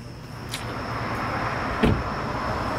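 A car door thuds once at a police traffic stop as occupants are ordered out, preceded by a lighter click, all over a steady low idling hum.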